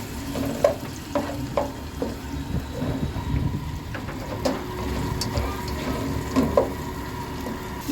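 Chopped tomatoes and four green chillies sauté in a pan, giving a low steady sizzle with irregular stirring clinks and scrapes, close and moderately loud, with no talk.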